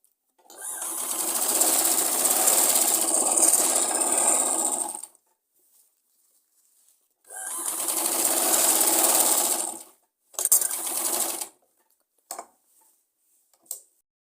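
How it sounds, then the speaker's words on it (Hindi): A sewing machine stitches lace onto a Punjabi suit in two long, close runs of fast whirring, followed by a shorter burst and a few brief clicks, with silence between. "इसके साथ साथ हमने दूसरी सिलाई भी लगानी है ताकि हमारा ये जो हमारी लेस है अच्छे ढंग से इसमें बैठ जाए"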